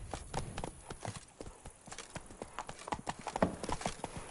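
Roach the horse galloping in The Witcher 3: Blood and Wine, a rapid steady run of hoofbeats on ground, close and moderately loud, with a brief snort near the end and no talk.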